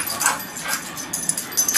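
Pit bull during a dog training session giving faint, brief whimpers and yips in a few short bursts against quiet background noise.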